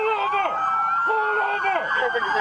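A loud LAPD police siren wails in rapid rising and falling sweeps, close by, with voices talking underneath.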